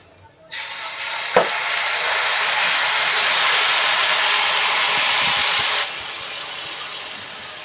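Mango pieces drop into hot oil already sizzling with reddened garlic and asafoetida, bursting into a loud, steady hiss that holds for several seconds before cutting off abruptly, with no one talking.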